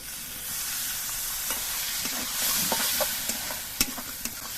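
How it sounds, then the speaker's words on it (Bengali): Spices sizzling and frying in a pan with ginger paste, turmeric, cumin and a splash of water, a steady close hiss broken by several scraping stirs and clinks of the spoon. "এবার মশলা দিয়ে কিছুক্ষণ কষিয়ে নেব।"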